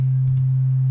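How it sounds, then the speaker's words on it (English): A pure sine wave tone plays as a steady, smooth hum, loud and constant alone for about a second with no talk. "So here is what a sine wave sounds like."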